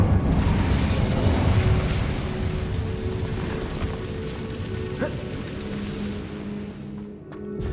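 Fire spell blasting in the Hogwarts Legacy video game, a loud sustained roaring burst with crackling rumble that slowly fades, mixed with ongoing combat effects.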